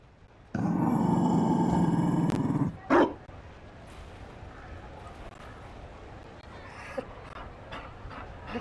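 A Mabari war dog in the video game Dragon Age Inquisition pants loudly and roughly for a couple of seconds, then gives a short growl before the scene settles into quieter ambient game sound.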